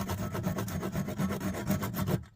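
A hand saw cuts through a wooden peg in an antique pre-1900 golf club, giving a steady run of close, rasping strokes that stop abruptly at the end.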